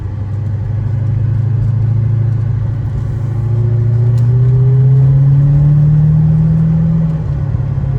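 A 1983 Mercedes-Benz 500SEL's engine runs with a deep, steady rumble that rises and swells in pitch as it revs, then settles back, loud and close.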